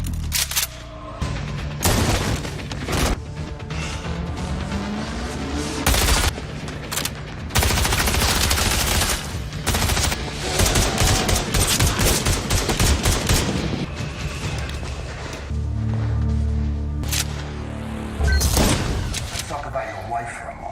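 Bursts of rapid gunfire and loud shots crack repeatedly amid tense music and crashing impacts, with brief spoken lines between volleys.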